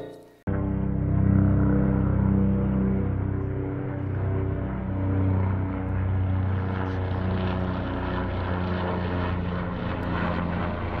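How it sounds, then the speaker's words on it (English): Propeller airplane flying overhead, a loud steady droning engine roar that starts suddenly and holds with slowly shifting pitch for the whole stretch, heard alone. "when planes fly overhead and interrupt the cast"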